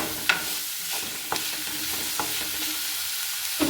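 Fresh fenugreek leaves are stirred and fried in a pan, a close, continuous sizzle with several brief scraping and clicking touches of the spoon spread through it.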